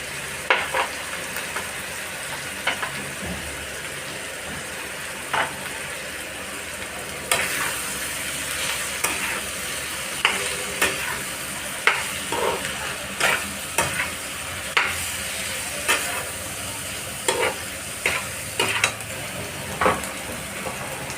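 Chicken masala being stirred and fried in a pan with chilli and coriander powder, a steady sizzle with repeated scraping stir strokes, close and continuous throughout.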